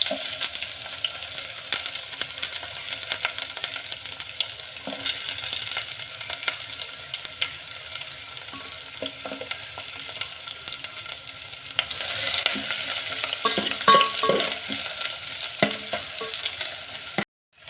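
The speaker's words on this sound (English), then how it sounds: "we start with frying the onions" Onions crackle and sizzle in hot oil, a continuous spattering hiss with occasional louder pops and stirring scrapes, close by and without speech.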